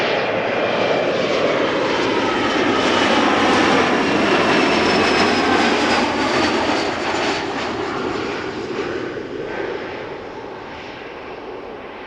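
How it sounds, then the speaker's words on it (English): A KLM Embraer 175 jet arriving at Amsterdam Schiphol roars loudly and continuously on a sunny day, a broad, close engine rumble with a whining edge that stays strong throughout and eases only slightly toward the end. "KLM flight 1056 up next, Embraer 175 arriving from Norwich"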